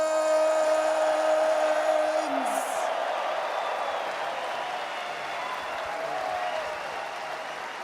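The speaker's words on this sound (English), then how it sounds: "can we celebrate in this moment and make one more round of applause for your TI-14 champions" A large arena crowd at the Dota 2 TI-14 finals applauds and cheers Team Falcons, a loud continuous roar of clapping that tails off slowly, with a tonal hum at the start.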